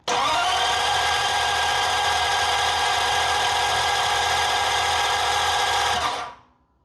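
A Ford flathead engine with an inexpensive EFI setup cranks over on the starter in a loud, steady whirring drone for about six seconds before winding down and stopping.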